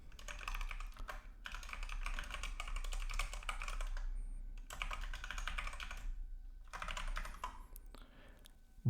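An email address and password being typed on a computer keyboard: quick bursts of close key clicks separated by short pauses, with no talking.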